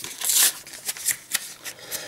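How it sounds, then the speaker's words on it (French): A trading card tripack is unwrapped by hand, with crinkly plastic rustling up close followed by a few short, light crackles and taps. "Hop, on va déballer le deuxième tripack."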